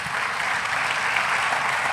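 Audience applause during a Telugu Christian sermon, a steady, dense wash of many hands clapping that holds evenly for about two seconds with no voices over it.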